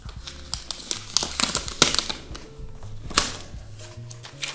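Crinkling plastic packaging pulled and handled while unboxing a 2021 Apple iMac, with close, busy crackles and rustles in rapid irregular bursts and a low hum underneath.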